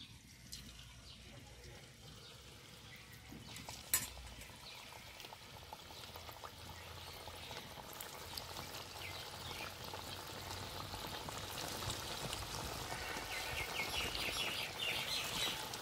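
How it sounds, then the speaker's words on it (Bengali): Battered food frying in heated oil, a steady broadband crackle and hiss that builds gradually and grows louder toward the end, with one brief sharp knock early on. "এখন আমি ভেজে নেব"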